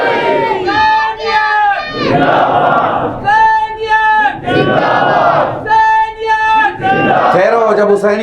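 Large crowd at a Shia majlis mourning gathering chanting religious slogans in unison, loud rhythmic call-and-response bursts repeating about every second and a half, with voices ringing out together.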